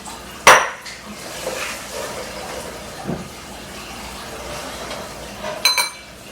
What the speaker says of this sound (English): And I'm going to put them right in this bowl here.